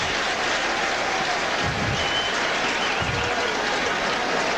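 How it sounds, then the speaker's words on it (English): Baseball crowd at Veterans Stadium cheering pitcher Padilla during a 2002 Phillies home game against St. Louis, a steady dense roar of applause and cheers filling the stadium, with occasional low thumps rising from the mass of noise. "The crowd here at the vet cheering for Padilla."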